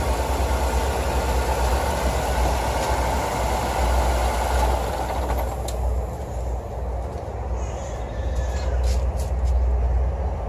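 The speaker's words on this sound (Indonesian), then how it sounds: "Oke, mesinnya akan saya matikan." A water-pump or cleaning machine engine idles steadily and loud, its low rumble thinning and dropping away about halfway through as it is switched off, leaving quieter mechanical ticks and faint clatter.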